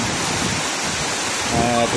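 Heavy rain and rushing floodwater pour down steadily near the municipal hall in Burdeos, Quezon, during Typhoon Enteng, a loud continuous wash of noise with a brief tonal sound near the end.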